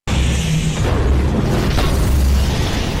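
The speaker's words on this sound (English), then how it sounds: "Jack successfully launched a counterattack using a grenade, resulting in a massive explosion" Grenade blast in an action movie, a heavy booming explosion with a deep sustained rumble and roaring debris that stays loud for about three seconds.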